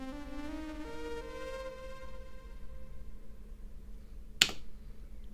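KX5 synth preset from a song: sustained, bright tones stepping down in pitch, then a single sharp percussive hit near the end, all fairly quiet and close, with no voices.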